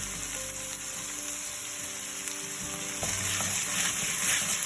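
Vegetables and garlic sizzle steadily in a pot for beef stew, a close, continuous fry with a low hum underneath and a slight rise in intensity partway through.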